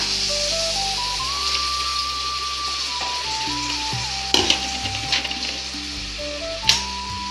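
Chana dal hits hot frying oil and sizzles steadily throughout, a close, continuous hiss with a few sharp crackling pops, no voices over it.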